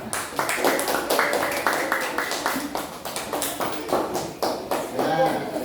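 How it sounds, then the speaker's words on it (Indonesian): A class of fifth-grade students claps for the third group in a classroom, a steady run of many small hands tapping together over several seconds, with some shuffling underneath. "tepuk tangan untuk kelompok ketiga"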